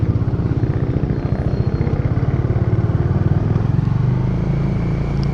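A Bajaj Dominar 400 motorcycle engine runs close by with a steady, rapid, even thumping, like an idle. The sound stays constant for the whole stretch, with no voices.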